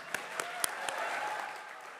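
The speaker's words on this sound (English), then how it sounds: "big round of applause?" A graduation audience gives a round of applause for the graduates, soft and somewhat distant, with a few sharper individual claps standing out over a steady wash of clapping.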